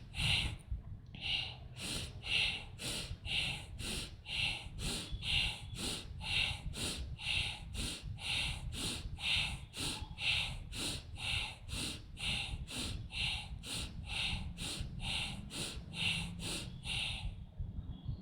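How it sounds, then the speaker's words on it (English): Deep, loud rhythmic yoga breathing through the throat, close and forceful, about thirty evenly paced breath strokes in a steady unbroken cycle with no talk. "breathe deep and loud."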